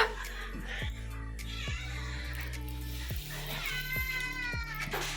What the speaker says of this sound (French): C'est les plaintes du bébé chat, ça?